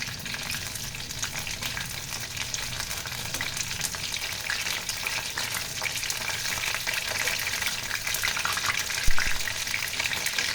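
Fish fries in a pan of hot oil over a low flame, a dense continuous sizzle and crackle heard up close with little change throughout.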